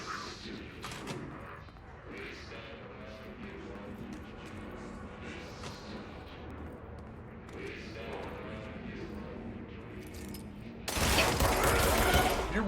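Bursts of gunfire rattle through a firefight in the Control video game, with quick repeated shots and thuds under a busy mix. A louder, harsher volley breaks out near the end.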